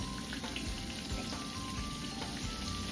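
Oil sizzles and crackles steadily as fish fries in a pan, with a dense, even hiss and scattered pops throughout.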